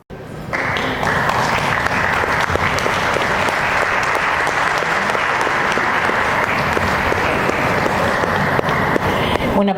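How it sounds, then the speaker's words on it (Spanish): Sustained, loud audience applause at a book presentation at a book fair in Santa Fe, a dense steady clatter of many hands clapping from start to finish without pause. "Un aplauso fuerte para la presentación de En la niebla de la conspiración de los fuleros, gente"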